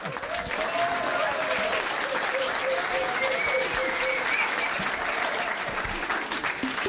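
Sustained applause from a pub quiz audience at The Yard, clapping for the trivia winners; a dense, steady wash of hands close by, with some voices mixed in throughout.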